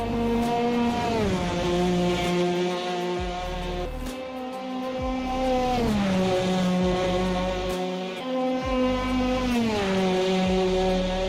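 A 250cc two-stroke kart engine racing in Automobilista 2, loud and close with a buzzing high-revving whine that rises through each gear and dips sharply at the shifts in a repeating cycle.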